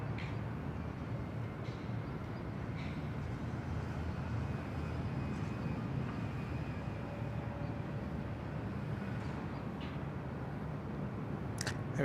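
Airplane arriving at Bangkok Suvarnabhumi Airport, a faint distant steady engine roar heard outdoors, with a few small clicks over the continuous hum.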